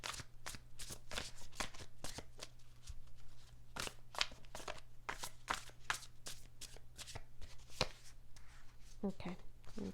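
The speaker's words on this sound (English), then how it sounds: "I'm going to pull another card to clarify that" Tarot cards being shuffled and handled at close range, a continuous crisp riffling and flicking over a low steady hum, with a person talking quietly underneath.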